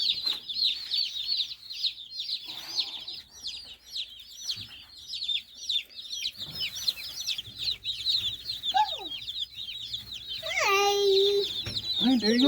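A flock of about 110 newly arrived baby meat chicks peeps continuously in dense, high chirps close by, with a brief louder call near the end and a voice faintly in the background.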